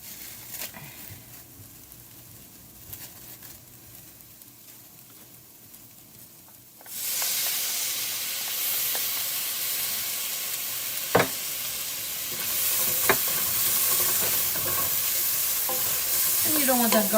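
Garlic and onions frying in a pan for chili: a quiet stretch gives way at once to loud, steady sizzling, with a few sharp clinks and scrapes of stirring near the end.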